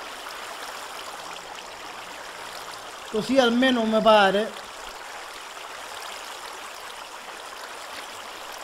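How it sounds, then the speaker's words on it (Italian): Water slowly draining away in Minecraft, a steady soft trickling stream running throughout, with a brief burst of speech partway through. "Vedete che l'acqua inizia ad abbassarsi, il livello dell'acqua piano piano"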